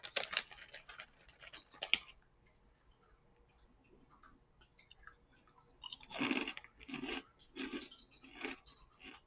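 Crisp crunching bites of a puffed mochi cracker snack come in two clusters, a burst of crackly chews at the start and another later, close to the mic with quiet gaps between.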